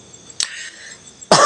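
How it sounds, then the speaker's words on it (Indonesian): A man coughs twice during an engine assembly job, one short close cough early and a louder second one at the end, with a quiet workshop in between and no talk. "Batuk dulu guys, soalnya lagi batuk ya."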